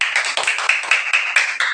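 A quick run of hand claps, roughly eight close, crisp, evenly spaced slaps in under two seconds, heard alone.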